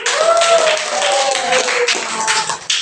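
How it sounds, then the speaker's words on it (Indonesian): Classroom applause from a group, steady dense clapping throughout with some voices and cheering mixed in. "Tepuk tangan untuk kalian semuanya."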